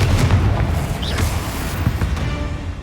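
Confringo blasting spell detonating in the Hogwarts Legacy video game, a loud booming explosion with a low rumbling body that sustains and slowly decays across the short span, with crackling bursts and no talk over it.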